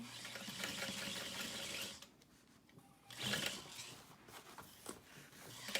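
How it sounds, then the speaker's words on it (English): A sewing machine stitches straight across the bottom seam of a piped backpack, quiet close rapid needle chatter in two runs separated by a pause. "We're going to sew straight across the bottom."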